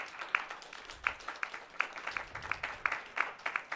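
Scattered applause from a small audience at a final pitching session, sparse claps and a few cheers in uneven bursts, moderately close and fairly quiet.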